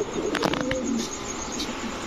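A black Sirazi female pigeon gives a soft, brief coo at close range over faint background noise.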